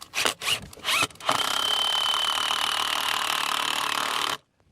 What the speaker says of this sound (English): Drill bit's too short, but I got it started.